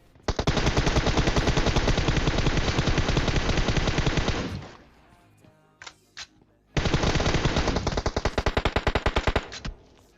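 Long bursts of rapid machine gun fire in PUBG Mobile, loud and close, pausing briefly for a few scattered shots before another sustained burst.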